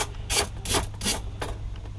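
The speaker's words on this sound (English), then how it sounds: "you just want to file around the outside" A hand file rasps around the outside edge of a cut brake line end to chamfer it, in three or four short back-and-forth strokes, close and fairly quiet.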